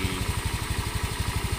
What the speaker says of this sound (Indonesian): Mesin suara tetap stabil, tidak ada perubahan suara.